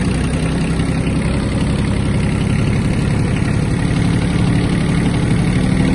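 A Kubota B1-17 compact mini tractor's diesel engine runs loud and close with a steady throbbing rumble as it pulls away in first gear, an even drone throughout with no voices.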